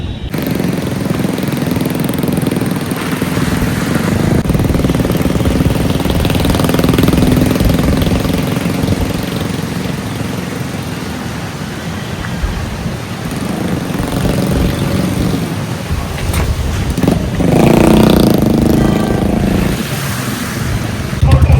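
Traffic rumbles continuously as cars and motorbikes drive out of a traffic jam, engines droning and revving close by, a steady loud mechanical roar throughout.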